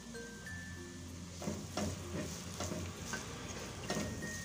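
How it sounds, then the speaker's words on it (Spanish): Onion sautéing in olive oil in a pan for a crab and chickpea soup, a steady soft sizzle with irregular scraping stirs and light clinks, close and moderately quiet, no speech. "Voy a citronar la cebollita."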